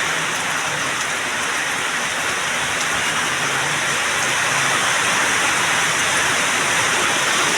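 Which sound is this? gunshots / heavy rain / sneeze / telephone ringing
heavy rain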